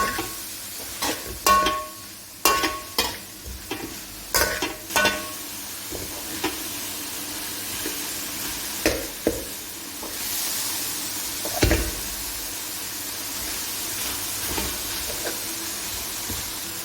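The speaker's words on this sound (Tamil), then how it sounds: "ஃபஸ்ட்டுலேயே கொஞ்சம் லைட்டாக உள்ளி வதங்கு." Onion and tomato sauté in a pan for a coconut milk chicken leg gravy, a low steady sizzle broken by repeated sharp scraping stirs of a spoon, close and without talk.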